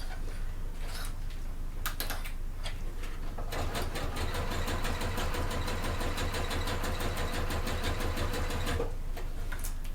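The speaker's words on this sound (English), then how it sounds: "I'm going to sew as far as my foot will let me to where that bulkiness is" A sewing machine stitches a fold-over clutch bag, starting with short bursts, then running in a steady fast mechanical rattle at slow even speed, close and clear without talking.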